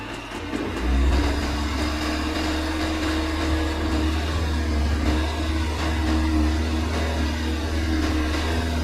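A Volvo SUV's engine holds high revs during an off-road obstacle test, a steady loud drone with a deep rumble running continuously and no talk over it.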